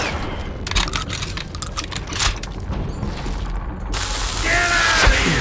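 Rapid gunfire in a Call of Juarez Gunslinger shootout inside a mine full of gunpowder and dynamite, a dense run of sharp overlapping shots and bangs close up, with a brief shouted voice.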